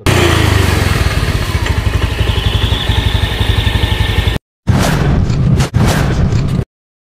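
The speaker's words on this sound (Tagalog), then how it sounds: "Yung Honda Beat na FI version 2 kasi parang may alog-alog or kalinsing yung panggilid niya" Honda Beat FI v2 scooter engine running with a rattle from its side casing, a loud steady close-up drone that cuts out briefly, then revs again in short bursts.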